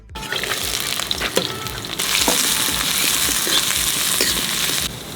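Mustard oil heating in a kadai over a biogas stove, giving a steady hiss with scattered clinks and knocks that swells louder partway through before easing off near the end; nobody speaks.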